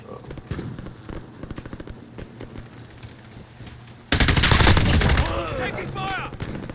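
Machine gun fire in the multiplayer video game Modern Warfare: rapid scattered bursts first, then a loud, dense sustained volley with sharp cracks, mixed with game sounds.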